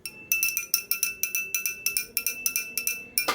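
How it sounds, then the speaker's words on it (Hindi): A small damaged prayer bell rings rapidly over and over, each strike a bright, slightly dull clink with a short ring, in a quick steady rhythm. "और अब आप इस घंटी की आवाज़ सुनो"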